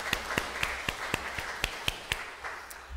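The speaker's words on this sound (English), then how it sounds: "let's give Bob a round of applause" Applause for Bob at a church gathering comes through as faint, evenly spaced claps in a steady quick rhythm that slows and fades near the end.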